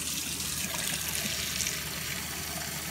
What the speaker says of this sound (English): right in here I got some lemon juice and add some water